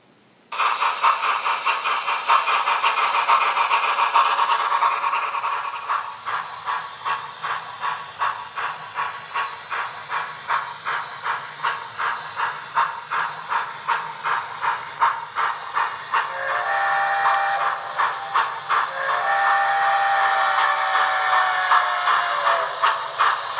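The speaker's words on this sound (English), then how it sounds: "when you run that, you can hear it, especially as it gets into its mid-range speed where the chuffs are still separate" An HO brass-hybrid Union Pacific 4-12-2 model steam locomotive chuffs in an even, rapid cadence of distinct beats under a loud, sustained whistle, with the whistle shifting pitch later on.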